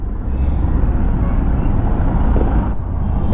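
Heavy road traffic in Pune heard from a Suzuki Burgman 125 scooter, a loud continuous low rumble of engines and passing vehicles with wind buffeting.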